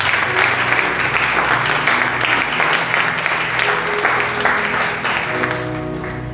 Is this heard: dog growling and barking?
no